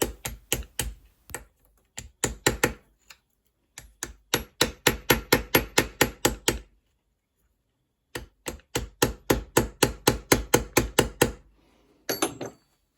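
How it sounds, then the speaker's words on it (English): Sharp hammer blows strike metal held against the lip of a bench vise while fettling a Series Land Rover voltage stabiliser, sounding as fast, close, loud bursts of rapid rhythmic taps separated by short pauses, with no talking. "After all that precision hammer work"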